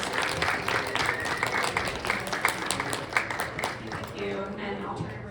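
An audience at a panel discussion of artist talks claps for the speakers, a moderate spread of applause that rises and falls over several seconds, with some talk mixed in.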